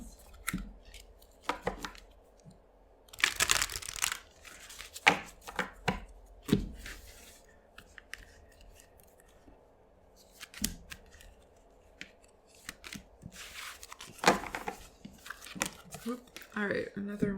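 Oracle cards are pulled and shuffled by hand, giving irregular crisp rustles, snaps and flicks, close and fairly quiet, with soft talk at times between them.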